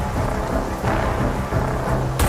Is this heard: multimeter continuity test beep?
no